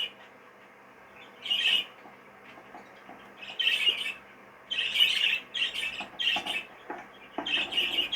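A young baby budgie or fife canary chick gives short, raspy squawks in irregular bursts, close and fairly loud against a quiet background.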